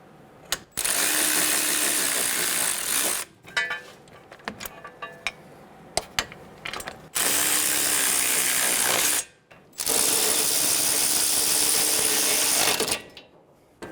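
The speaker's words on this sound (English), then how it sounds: "Snug the bolts down." Hand ratchet tightening the caliper bracket bolts on a 2011-2014 Hyundai Sonata during a front wheel bearing job: three long bursts of rapid clicking, separated by quieter pauses with faint handling and tool noises, close and loud.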